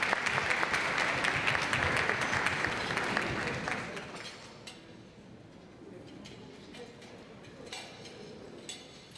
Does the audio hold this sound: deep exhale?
no